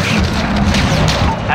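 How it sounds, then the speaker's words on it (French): Missile strike explosions in Call of Duty: Modern Warfare, loud deep booms rolling together with a rumbling, crackling blast tail. A radio voice speaks over them. "Missile tiré. Touché."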